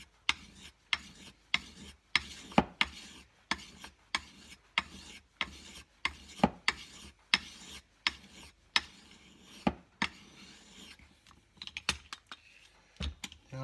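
The smooth side of a carving knife for spoon carving is sharpened on a puck, giving a series of close, quiet scraping strokes in an uneven rhythm with brief gaps between them.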